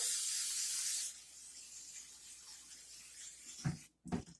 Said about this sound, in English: Here we have the pie dish. I am going to go and spray a little.